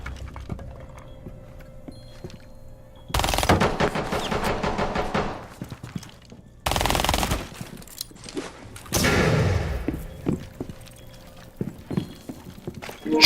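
Bursts of gunfire in Rainbow Six Siege come in three dense, loud volleys separated by quieter gaps, each rapid string of shots cutting off abruptly.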